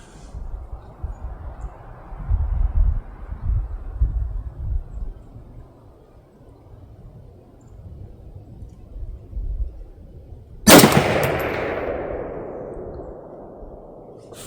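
A 1986 Romanian AKM (PM63) rifle fires once, loud and close, at an outdoor range, and the shot rings out with a long fading echo after several seconds of low background rumble.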